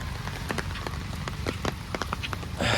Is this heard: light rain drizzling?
yes